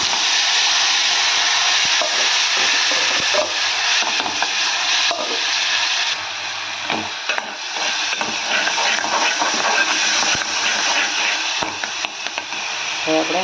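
Gravy goes into hot oil with mustard seeds and asafoetida, raising a loud, steady sizzle and hiss with occasional spoon scrapes as it is stirred in a home kitchen pan.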